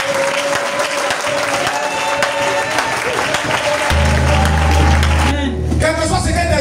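A church congregation breaks into sustained applause, dense and close, with voices mixed in and a low droning instrument rising under the clapping partway through.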